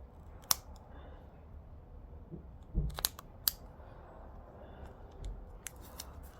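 Scissors snip plastic while a cold air intake part for a 2010 Genesis sedan 4.6 is trimmed, giving a few sharp, separate clicks and crunches spread over quiet background hiss, with soft handling noises between cuts.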